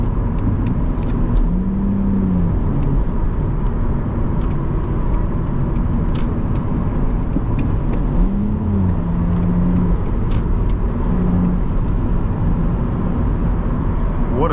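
A 2006 BMW Z4 3.0si being driven, heard from inside the cabin as a loud, steady engine and road drone, with a few brief rising whines as the revs shift.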